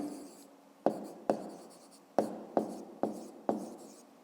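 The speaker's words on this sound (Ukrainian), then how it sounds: "Отже, записуємо тоді відповідь." A pen writes an answer to a fifth-grade maths exercise on paper: six short, crisp scratching strokes in an uneven rhythm, close by and alone.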